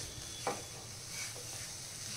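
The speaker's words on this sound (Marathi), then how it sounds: "गूळ घातल्यानंतर हे थोडंसं आपल्याला फ्राय करून घ्यायचं आहे" Coconut rice with jaggery frying in ghee, a faint soft sizzle with a few light stirring scrapes spaced apart, close but quiet, no talking.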